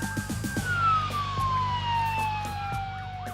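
Wailing emergency vehicle sirens from police and ambulance units responding to a staged construction accident in Dubai, a long sweeping tone gliding slowly downward, mid-distance and fairly steady, with some rhythmic lower thumps beneath.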